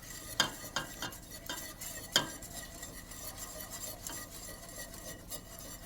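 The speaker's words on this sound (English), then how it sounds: "we're going to slowly be adding the semolina. Lower your flame now, lower your heat, and we're gonna stir it in like this." Semolina being stirred into hot liquid in a pot over lowered heat for a Carnevale migliaccio semolina cheesecake, giving soft scraping and rubbing strokes with a few sharper spoon knocks against the pot early on, close and steady with no talking.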